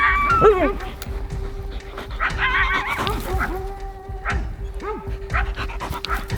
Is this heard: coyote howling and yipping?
yes